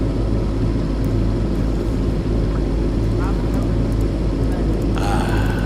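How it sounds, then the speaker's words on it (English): A submersible's engine drones in a steady, loud low rumble in the Hitman 2 video game, continuous throughout, with brief faint clicks and a burst of higher noise near the end. "The sound of an engine running, smooth like a hummingbird."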